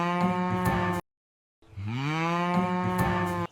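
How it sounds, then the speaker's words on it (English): A cartoon cow moos in a children's farm-animal song, two long drawn-out lowing calls with a clear, tonal, musical quality, loud and close with a short silence between them. "Look, Bravey, it's a cow. The cow says moo."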